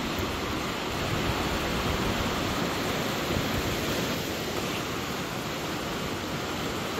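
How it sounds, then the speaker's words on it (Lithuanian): A waterfall found along a walking trail roars in a steady, loud, broadband rush that holds unbroken throughout, with no voices heard. "Radom krioklį."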